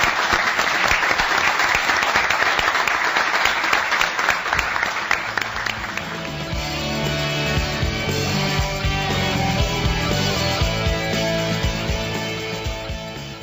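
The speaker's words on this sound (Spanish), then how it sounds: "Podemos cerrar con un aplauso, ¿no?" Applause from the audience at a dialogue-panel gathering, a dense, loud burst of clapping that gradually thins into scattered, more distinct individual claps toward the end.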